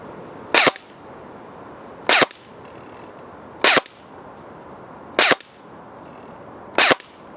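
An Umarex AER 16 electric steel BB rifle fires on semi-auto: five sharp, close shots evenly spaced about one and a half seconds apart, each a crisp crack standing alone over a quiet background.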